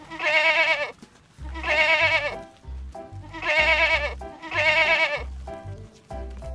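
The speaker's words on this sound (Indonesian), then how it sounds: "Wow, ada kambing." A goat bleats loudly four times in a row, each cry wavering and drawn out, with short pauses and low thumping sounds between them.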